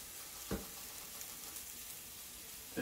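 Garlic and cumin sizzle quietly in a pan as a faint, steady frying hiss, with two short clatters of stirring or added garlic near the start and end, no speech.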